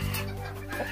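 A chicken clucks briefly and close by at the spot where it sleeps in a Kenyan village, a short low call over a steady background hum.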